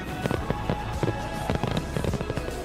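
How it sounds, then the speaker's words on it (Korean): Fireworks burst over Yeouido at night, a steady run of sharp pops and crackling bangs in quick irregular succession, moderately loud with a continuous rumbling backdrop. "이렇게 불꽃이 여의도의 밤을 화려하게 밝혔습니다."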